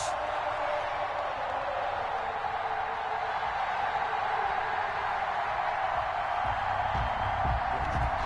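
Stadium crowd at Arrowhead in an NFL video game before a matchup with the Chicago Bears, a steady, broad roar of many voices holding at an even level throughout, with some low rumbling toward the end.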